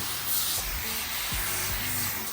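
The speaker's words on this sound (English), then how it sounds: "I am going to spray it in the undercarriage." A steady hiss of degreaser sprayed close by onto a Defender's undercarriage, continuous for a couple of seconds with faint low thumps underneath.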